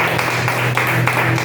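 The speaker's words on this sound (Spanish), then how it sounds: "Denle un fuerte aplauso a nuestro Dios amado." A church congregation claps in steady rhythm during a worship service, with loud, even, repeated beats close by and no break.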